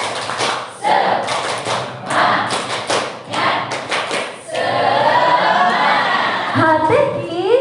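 An audience at an Islamic training session beats out a rhythmic spirit clap, several quick bursts of dense hand claps in a set pattern, followed by crowd noise and a shout that swells toward the end.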